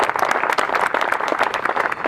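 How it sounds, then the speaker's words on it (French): At the Belfius Belgian Masters 2017 prize ceremony, the audience applauds the maintenance staff with dense, steady clapping from many hands, close and continuous throughout. "beaucoup d'applaudissements pour le personnel d'entretien"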